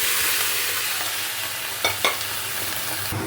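Spices drop into hot oil for tempering, giving a bright, continuous sizzle and crackle up close. A couple of sharper spits or stirring knocks break through near the middle.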